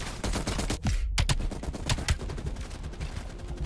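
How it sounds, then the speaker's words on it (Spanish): Shotgun blasts from the first-person shooter Call of Duty: Black Ops Cold War, heard as loud, booming reports over continuous in-game combat noise and ambience, with a sharp blast near one second and further shots afterward. "Muy buena la escopeta, ¿eh?"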